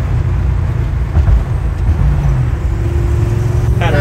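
A 1967 Ford Fairlane 500 with a 390 V8, rumbling steadily inside the car with a deep, continuous low drone and a slight swell in revs, loud and close, with a voice briefly heard over it.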